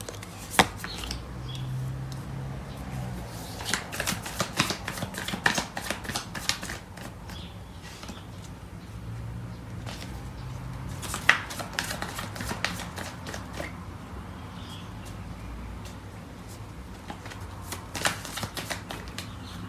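Tarot cards are shuffled steadily for a long stretch, a soft continuous riffling with light slaps and taps, close and quiet, with no talking.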